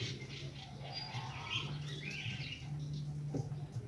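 Pigeon calling softly amid other faint chirps and tweets, with a low steady hum underneath, birds fairly close but quiet, no talking.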